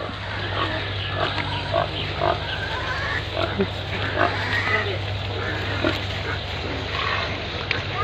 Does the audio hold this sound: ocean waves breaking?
no